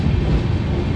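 Deep, steady rumble of the Samta Express pulling out of Muniguda station, loud and close, a continuous low roar of wheels and carriages.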